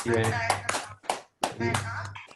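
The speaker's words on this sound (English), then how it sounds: "Please feel free to clap for Shu-Heng." Scattered clapping from an online audience through unmuted microphones after a string math talk, uneven and close, with voices talking over it and a short gap of silence midway.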